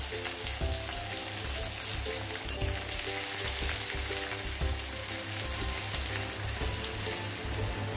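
Onion frying in hot oil with five-spice (panch phoron), dry red chilli and bay leaf, a steady dense sizzle running throughout, close and continuous with faint crackles.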